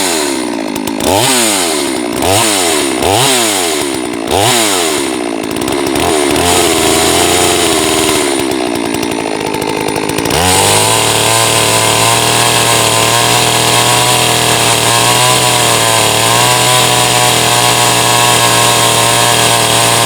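A Neotec NS 872 chainsaw, a copy of the STIHL MS380, is pulled several times in quick, rhythmic tugs before the engine catches. It sputters briefly and then settles into a loud, steady idle, close up with no talking.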